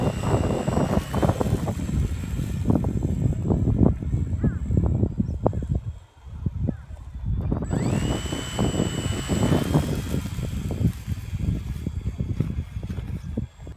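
An electric RC airplane motor buzzes at throttle through a hand launch and flight into the wind, a steady whine with choppy gusting noise, dipping briefly mid-clip before climbing back, as someone talks throughout.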